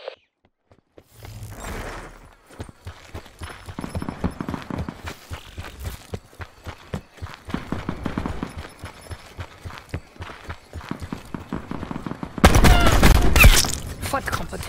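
Rapid gunfire bursts from the shooter Call of Duty: Black Ops 4 in Gun Game mode, dense overlapping shots and clatter with scattered game noise, ending in a loud heavy burst near the close.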